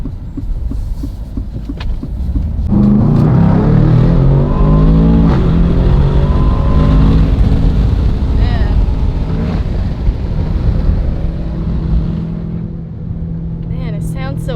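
An Aston Martin DBX 707 SUV being driven, its engine rising to a loud close growl with climbing revs, then a steadier cruising drone with road rumble. People talk over the engine throughout.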